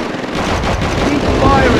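Loud, dense gunfire from the World War II shooter Call of Duty: Roads to Victory on PSP, with continuous rattling automatic fire layered over booming battle noise.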